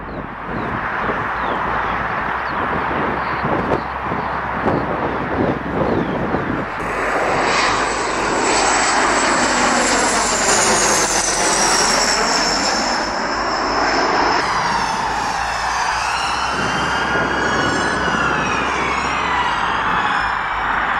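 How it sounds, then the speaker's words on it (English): A loud airplane engine roar builds and sweeps overhead as the plane lands on a highway, its pitch shifting as it passes, with a siren-like wail rising near the end; no one speaks. "a plane suddenly landed on the highway"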